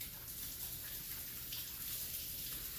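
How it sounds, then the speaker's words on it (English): Hands washed under a running kitchen tap, a steady close hiss of flowing water splashing without break, no talking. "As you see, I wash my hands a lot."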